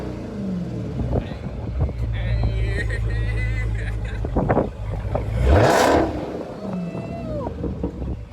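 A Dodge Charger Hellcat with a muffler delete rumbles loudly on a cold start, then snaps into a rising, sharp rev before settling back, while people talk nearby.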